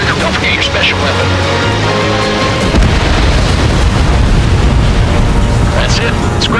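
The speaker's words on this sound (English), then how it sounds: "Enemy bomber down." An enemy bomber shot down and exploding in the Ace Combat 7 flight combat video game, a loud sustained rumbling boom over jet engine drone, with radio chatter voices layered in.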